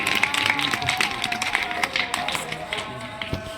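Schoolchildren at a Children's Day celebration applaud the girls who came first, a lively scattered clapping with sharp taps and bustle that continues steadily, fairly close.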